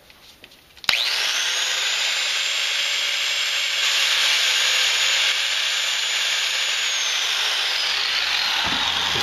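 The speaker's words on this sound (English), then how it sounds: "I'm just going to grind this off right here, trying to get this off of the uh, shaft, off the throttle shaft." Power grinder cutting a clamping device off the throttle shaft of a 4.0 Jeep Wrangler/Cherokee throttle body: a sudden start, then a loud, steady high-pitched whine that holds for several seconds before winding down.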